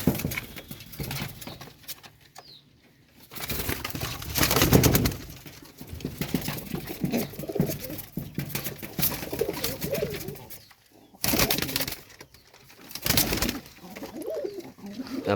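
High-flyer pigeons coo in low, soft bursts near at hand, with rustling and flapping noises in between and a brief quiet patch partway through.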